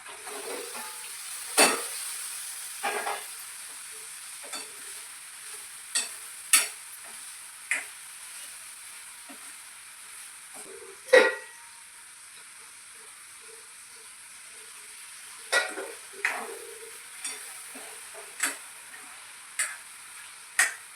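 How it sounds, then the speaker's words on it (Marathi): Chicken is added to frying masala in a wok and stirred, with a soft sizzle under intermittent sharp scrapes and clacks of a spoon spaced out over about twenty seconds. "त्याच्यामध्ये चिकन घालू."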